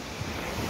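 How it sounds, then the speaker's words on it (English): Strong hurricane wind roaring and buffeting against the microphone, a dense steady rush with no voices. "Just another windy day. Look at this wind."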